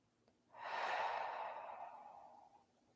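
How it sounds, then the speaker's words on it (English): A deep breath drawn in and let out slowly during an energy-field exercise, done with hands at the sides and palms down. It is a soft, airy breath lasting about two seconds, close and alone. "for a nice breath in and out"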